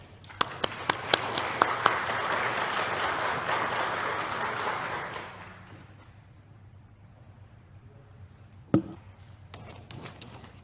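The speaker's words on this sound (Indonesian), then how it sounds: "Kita beri aplaus." A church congregation applauds during a worship service, a broad wash of clapping over the first five seconds with a few sharp claps standing out, then fading into quiet room tone with one loud knock near the end.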